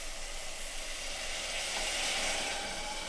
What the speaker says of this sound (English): Now add in 300 grams, which is about 1½ cups of red lentils, plus 720 ml, which is about 3 cups of vegetable stock